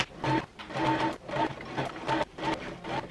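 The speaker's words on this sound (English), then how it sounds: "Just be careful when you are sewing along the curve." Up close, a sewing machine stitches the curved seam of a strapless sweetheart bodice in short bursts. Each whirring run of needle strokes stops briefly between runs as the fabric is guided along the curve.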